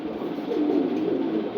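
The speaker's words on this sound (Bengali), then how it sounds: "এই রেসারটা হচ্ছে অ্যাকচুয়ালি বেলজিয়ামের ব্লাড লাইনের কবুতর" A Belgian-bloodline racing pigeon, a fairly large bird, coos steadily and close by for a moment, its low, throaty murmur running continuously with a slight swell near the end.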